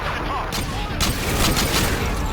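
Gunfire in Call of Duty Modern Warfare 2 during the No Russian mission: dense overlapping bursts of shots and booms over a brief stretch, with a voice faintly beneath.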